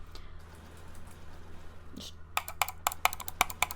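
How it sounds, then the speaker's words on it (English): Sharp dry clicks from a computer mouse or keyboard come in a quick irregular burst of about a dozen during a PC building game, close and fairly faint over a low background hum. "the microphone is gonna pick up the noise of me clicking."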